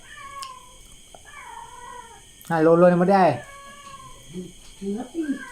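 A cat gives one loud, drawn-out meow up close, with quieter speech before and after it.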